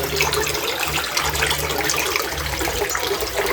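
Water from a water system pours steadily into a concrete pond, a continuous close splashing rush with a low hum beneath and no talk.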